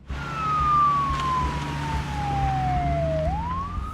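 A fire engine siren wails in a long, loud descending tone that then rises again, with engine rumble beneath, as several engines respond to a sinkhole alert.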